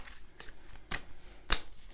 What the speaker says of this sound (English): I'm just going to shuffle this oracle card